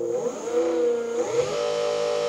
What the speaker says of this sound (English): We got our motor controller going, and here's our throttle.